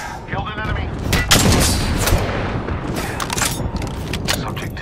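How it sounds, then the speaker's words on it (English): Loud game battle in Apex Legends: booming airstrike explosions and heavy gunfire crowd together in dense bursts, with a character's voice breaking through. "Vincent, we got an airstrike on us."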